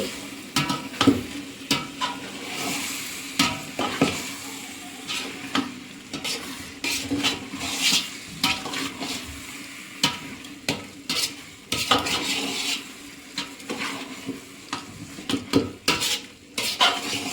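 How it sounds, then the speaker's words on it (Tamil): A spoon scrapes and clanks around a metal pot of vegetable biryani over a wood-fired stove in irregular bursts, with a soft sizzle underneath; no voices. "அதை அனைத்தையும் ஒன்றாக கிளறி"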